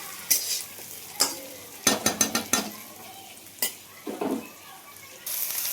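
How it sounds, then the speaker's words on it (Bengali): Onion frying with tempering spices in a pan for a fish curry, with a soft sizzle broken by sharp, close clinks and scrapes of a spatula stirring against the metal. "প্রথমে পেঁয়াজটা ফোড়ন দিয়ে ভেজে নিচ্ছি"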